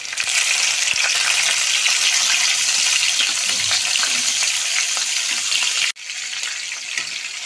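Ground onion and tomato paste hitting hot oil for fish biryani, a loud continuous sizzle with crackling bursts, briefly dipping near the end before resuming.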